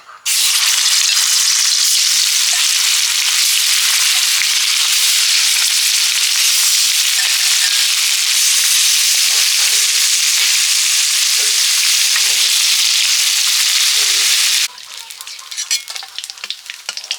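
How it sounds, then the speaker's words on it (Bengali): Pieces of snakehead fish rubbed with salt and turmeric frying in a hot wok, a loud, close, continuous spitting sizzle that suddenly drops to a softer crackle near the end. "শোল মাছ নুন হলুদ মাখিয়ে নিচ্ছি এবারে ভাজবো কড়াটা গরম হয়ে গেছে"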